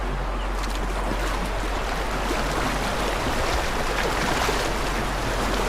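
A mountain river flows with a loud, steady rush of water that stays constant from start to finish, with no voices.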